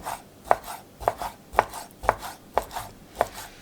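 Knife chopping through raw chicken on a cutting board to cut thin strips for tantuni, six sharp, evenly spaced strokes about half a second apart, close and crisp with no talk.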